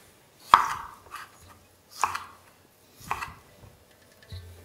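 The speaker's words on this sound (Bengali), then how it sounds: "তার জন্য টমেটোটাকে আমি এরকম রাফলি কেটে নিচ্ছি।" A knife roughly chops a tomato on a board, four separate clear thunks spaced about a second apart, each followed by a short soft slide, heard close and fairly quiet with no talking.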